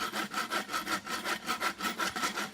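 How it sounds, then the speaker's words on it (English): A farrier's rasp scrapes across a horse hoof while the toe is squared up, giving steady back-and-forth strokes about five times a second, close and fairly quiet with no talk. "Now I want to rasp it up."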